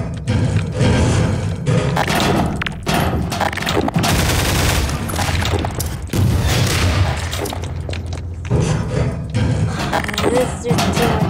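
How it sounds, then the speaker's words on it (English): Rapid, dense bursts of gunfire rattle almost nonstop in a Garry's Mod Minecraft hotel map, loud and close, with brief gaps and other booming game noise mixed in. "I'm just messing around shooting things"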